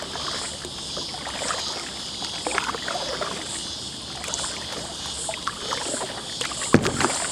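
Paddle strokes and water sloshing around a canoe or kayak on Prospect Creek near George's Hall, a steady soft wash with a few brief splashes and one sharp knock near the end.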